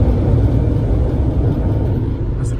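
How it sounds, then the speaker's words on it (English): A New York City subway train rumbles overhead as a deep, continuous, loud roar that holds steady and eases slightly toward the end. "That's a train."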